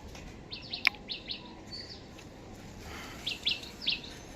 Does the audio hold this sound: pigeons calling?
yes